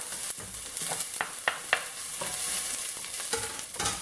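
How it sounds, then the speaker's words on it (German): Large onions frying with garlic in a pot for a kohlrabi and zucchini soup, a steady sizzle broken by several sharp stirring scrapes and knocks, close and clear with nobody talking. "So, wenn er gut riecht, dann einfach die Zwiebeln rein."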